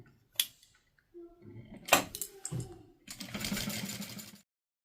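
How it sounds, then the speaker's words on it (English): A sewing machine stitches fabric strap connectors at a 1/4 inch seam, with short bursts of running and backstitching at the start and a longer steady whir toward the end, close and moderately loud. "I'm going to sew at 1/4 inch all the way around, and I'm going to backstitch really good at the beginning and the end"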